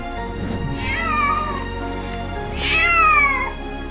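A rescued cat meows twice, two drawn-out, clear calls close by with a pause between them, over a low steady background hum.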